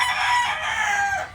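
A bulik gamefowl rooster crows once, close and loud, a single sustained call lasting over a second with no talk around it.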